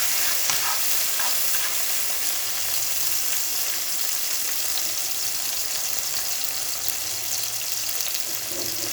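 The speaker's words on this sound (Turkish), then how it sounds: "Şimdi domateslerimizi koyalım salçayı." Tomatoes and tomato paste sizzle in a pan for a lentil bulgur pilaf, a soft continuous frying hiss with occasional stirring scrapes, fairly quiet and steady.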